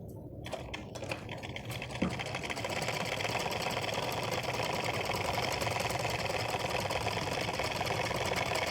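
A sewing machine stitches along the length of a sari, running in a steady, dense mechanical whir that starts with a slight stutter and then holds at an even, close level with no voices.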